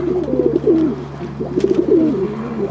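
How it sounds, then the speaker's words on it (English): A young racing pigeon coos close by in two soft, throaty bursts of bubbling, rolling calls separated by a short pause. "that's one of the half racing pigeons there"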